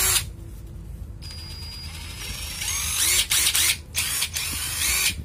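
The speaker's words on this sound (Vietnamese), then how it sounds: "Rồi bây giờ tới con vít." A cordless Hitachi 12V electric screwdriver whirs steadily with a high motor whine, then revs and stops in short bursts toward the end, running close and loud with no talk.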